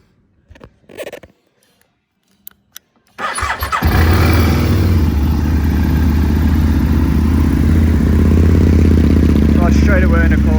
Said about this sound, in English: Start straight away in a cold start. And sounds absolutely fantastic with these Akrapovic exhaust pipes on it.